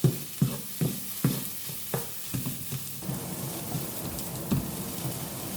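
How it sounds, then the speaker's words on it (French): Onions stirred and frying in a pan over high heat: a steady close sizzle with a series of sharp scraping stirs that come in a quick rhythm and then give way to continuous crackling, with no voices. "On mélange bien les oignons."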